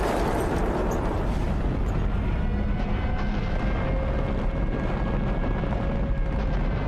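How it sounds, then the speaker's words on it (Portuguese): A huge explosion aboard the battleship USS Arizona, heard as a continuous, loud, dense roar of blast and rumble that fills the whole stretch without letup. "O encouraçado Arizona explode com um som ensurdecedor."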